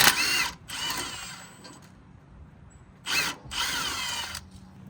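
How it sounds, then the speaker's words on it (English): Power tool loosening the brake caliper bolts on the front suspension of a Nissan 240SX, two short whirring bursts separated by a quiet gap, close and loud, with no voices. "Let's loosen the caliper bolts now."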